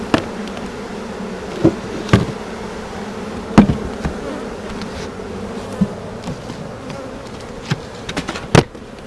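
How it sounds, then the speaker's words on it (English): Honeybee swarm at a hive, a continuous soft buzzing hum with occasional louder bees passing close and a few sharp knocks. "Alright, that does it for what I'm calling hive number 8, which is also the swarm I removed from Bear Trail."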